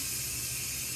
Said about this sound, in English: Excuse the noise, the canner's running,